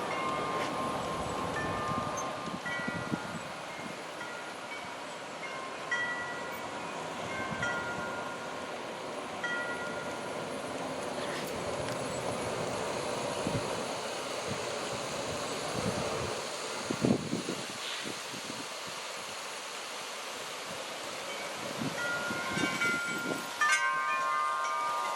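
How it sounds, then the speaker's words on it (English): Wind blowing outdoors around a G scale garden railway layout, a steady rushing buffet against the microphone with occasional louder gusts and faint thumps, continuous throughout. "The wind is picking up."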